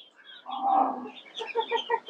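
Fayoumi chickens in a small rooftop coop, clucking in a short run of close, soft calls that end in a quick rhythmic series of clucks.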